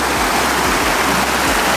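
A hot river fed by a natural thermal spring along the Carretera Austral in Chile rushes loudly and steadily, a dense close wash of flowing water with no other sound.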